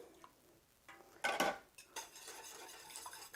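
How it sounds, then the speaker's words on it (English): A spoon scraping and clinking against a bowl while stirring a French toast casserole mixture with sugar and vanilla, a few sharp metallic knocks followed by soft, repeated swishing strokes, close up and quiet. "And keep stirring."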